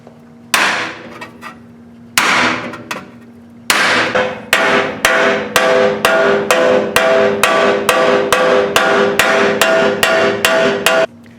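Sheet metal being hammered to work out dings, a few spaced hard metallic blows followed by a steady run of loud, evenly timed ringing strikes, close and with no talk.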